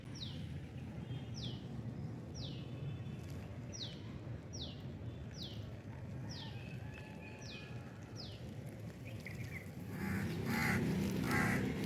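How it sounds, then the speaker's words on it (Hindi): Crows caw in a steady series of about nine calls, evenly spaced and somewhat distant, over a constant background hum of outdoor noise. "कोयल भी बोल रही है, कौवे भी"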